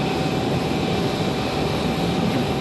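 American Airlines jet landing fast at Raleigh-Durham International Airport and rolling far down the runway, a steady loud engine roar with broadband rushing noise throughout, no voices heard.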